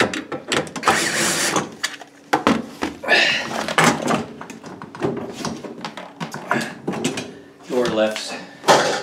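A Whirlpool refrigerator door is lifted off its hinges, giving loud clunks, rattles and scraping knocks mixed with people talking throughout.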